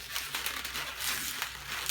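A latex modelling balloon squeaks and creaks as it is pinch-twisted while being shaped into a cat's face, a dense rubbery crinkling that runs steadily through the whole moment, close and unaccompanied by speech.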